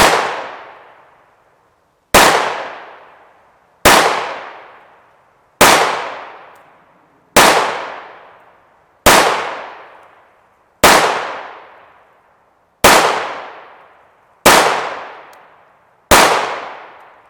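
Ten sharp, loud gunshots from an FN 5.7 USG pistol with a 5.2-inch barrel firing Hornady Black 40gr VMAX 5.7x28mm rounds, evenly spaced about every 1.7 seconds, each with a short ringing decay and no talking.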